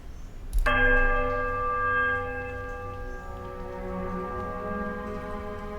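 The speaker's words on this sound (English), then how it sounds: "The bell sounds a strange warbling peal that grows to a painful shrillness before it diminishes into a mournful chime." In Pillars of Eternity, a bell strikes once with a sharp metallic hit, then rings out in a long warbling peal of layered tones that slowly fades into a sustained mournful chime, loud and alone.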